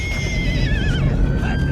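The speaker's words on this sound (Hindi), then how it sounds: "ठाकुर उस आवाज से खींचे चले आए और देखा तो घोड़ी अपने बच्चे के लिए दिल मिला रही थी" A mare gives a loud, wavering whinny for her foal in a Hindi film scene, the call falling in pitch over a low rumbling background.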